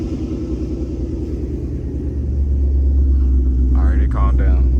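A cold Ford Mustang 5.0 Coyote Gen 2 with an aftermarket exhaust idles in a deep, loud rumble that swells louder partway through, and someone talks briefly near the end.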